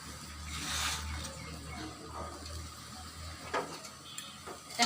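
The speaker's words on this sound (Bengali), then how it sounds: "এখন এটা মাঝারি আঁচে নেড়ে চেড়ে নেব।" Coconut and date jaggery mixture stirred in a pan over medium heat, giving a soft scraping, stirring texture with light clinks of utensil on pan and a few sharper knocks near the end.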